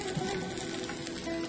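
A tofu cutlet fries in oil in a pan, giving a dense, even, close-up sizzle with fine crackle that holds steady for the whole moment.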